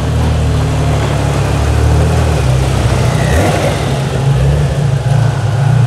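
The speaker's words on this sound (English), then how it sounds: "Insane car, loud external wastegate." A Porsche 930 Turbo with a big turbo and a loud external wastegate revs hard nearby, its deep engine note swelling and rising over several seconds, loud and rough, heard from outside the car.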